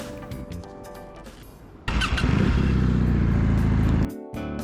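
A Kawasaki W800 motorcycle on a test ride lets out a low engine hum that swells into a loud, steady rumbling roar for a couple of seconds, then drops back abruptly.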